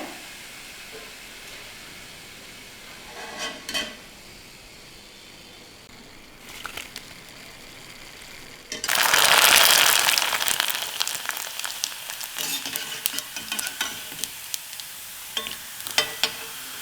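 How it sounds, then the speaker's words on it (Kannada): Sandige, ragi fritters, dropped into hot oil for frying: a few quiet clinks, then a sudden loud, hissing sizzle that settles into steady crackling bubbling. "ಫೈನಲ್ ಆಗಿ ಈಗ ಸಂಡಿಗೆ ಹುರಿತಾ ಇದ್ದೀನಿ"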